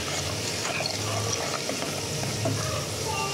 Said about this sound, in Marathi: छान तिखट वगैरे भाजून घेऊया आपण.